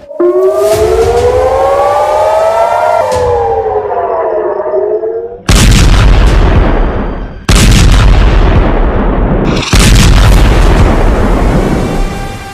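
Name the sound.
missile strike explosions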